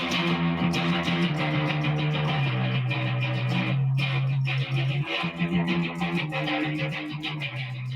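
A distorted bass guitar riff plays steadily, with chugging palm-muted notes repeating over a sustained low line, loud and continuous throughout.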